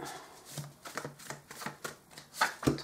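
Five tarot cards drawn one by one from a deck, soft quiet papery flicks and slides coming in a loose series of short strokes close to the listener.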